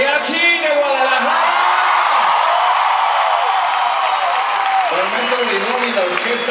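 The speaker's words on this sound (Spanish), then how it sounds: "Un aplauso para el mariachi de Guadalajara." Concert crowd applauding and cheering for a Guadalajara mariachi, a loud, dense wall of clapping with whoops and shouts that carries on steadily, with a voice over the noise near the start and again near the end.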